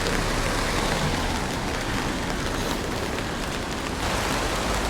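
Steady rain falling on a night street in a small Portuguese town, a dense, even hiss of drops on pavement, close and constant with no voices.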